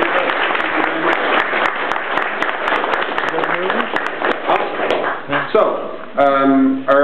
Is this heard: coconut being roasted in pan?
no